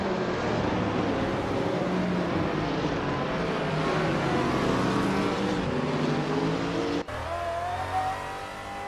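A 2016 Subaru Impreza race car runs hard on a track, its engine droning loud and steady with rising revs, then an abrupt gear change near the end.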